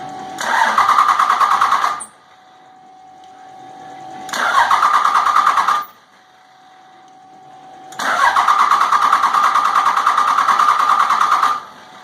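A common rail diesel engine is cranked for a startup in three loud, close bursts of a few seconds each, separated by quiet pauses.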